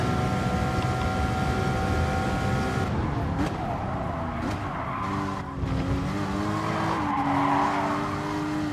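Race car drifting with tires squealing through long sweeping corners on Dragon Trail Gardens in Gran Turismo Sport, a steady engine drone under sustained rising and falling tire squeal, loud and continuous.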